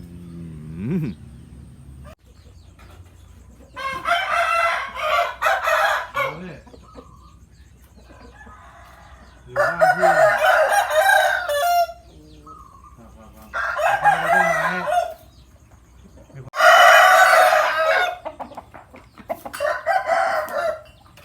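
A rooster crowing at a chicken coop, several long loud crows repeating every few seconds, with clucking and quiet background sounds between them.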